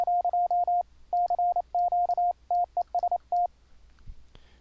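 A steady 1 kHz Morse code CW sidetone keys out short and long beeps in clear groups, loud and alone, with a brief thump near the end.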